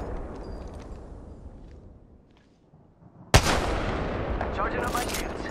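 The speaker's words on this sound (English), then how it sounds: "Taking fire! Hit the ejector seat! Yeah, getting shot at." Gunfire in the Apex Legends video game: after a quiet stretch, a sudden loud burst of shots erupts and carries on as a dense, continuous barrage to the end.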